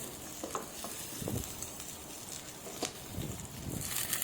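Onion and green chillies frying for a mango mixed vegetable curry, stirred in a pan: a faint, continuous sizzle broken by a few soft scrapes and clinks of the spoon, fairly quiet and without talk.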